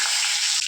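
Curry leaves hit hot oil already seasoned with mustard seeds and cumin for a tempering, bursting into a loud, dense sizzle that fills the brief moment, close up and without talk.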